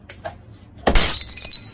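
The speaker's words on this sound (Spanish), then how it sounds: "Agarra un vaso y tíralo al piso." A drinking glass thrown onto a hard floor shatters in a single sharp, loud burst of breaking glass, followed by tinkling fragments settling; a short quiet lead-in comes before the crash.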